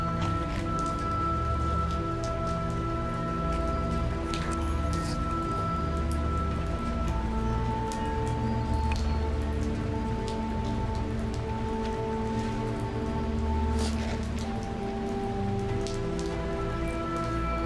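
Steady rain patters on a Decathlon camping tent, a dense continuous drumming of drops on the fabric that holds the same level throughout with no voices.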